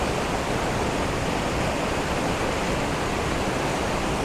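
Waterfall at Tokul Creek, Washington, roaring as a steady, dense, unbroken rush of falling water throughout, loud and close with no other sounds.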